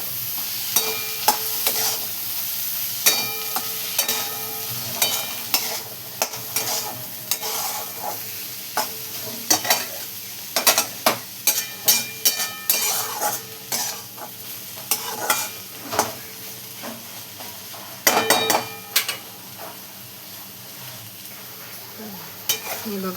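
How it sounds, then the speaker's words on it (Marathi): Cluster beans (gavar) with salt, turmeric and green masala are stirred in a sizzling pan, a continuous frying hiss broken by frequent irregular scrapes and clacks of the spoon against the pan, close and fairly loud. "मी सर्व टाकल्याच्या नंतर छान असं मस्त मिक्स करून घ्यायचे बघा"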